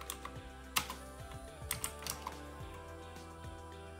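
Keys clicking on a computer keyboard while setting up a Raspberry Pi, a quick irregular run of close, soft taps with a few sharper strokes standing out.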